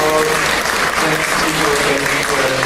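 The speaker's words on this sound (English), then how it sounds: "so this is just a big applause" Loud, sustained applause from a conference audience fills the whole stretch, thanking keynote speakers at the close of a session, with a faint voice underneath.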